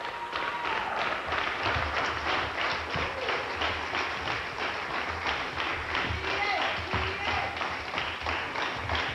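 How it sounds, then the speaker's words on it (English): Crowd noise fills an election night ballroom during 2002 midterm coverage, with loud, sustained cheering and rapid clapping that holds steady throughout. "Many people, as you can hear, are cheering her on, proud of her"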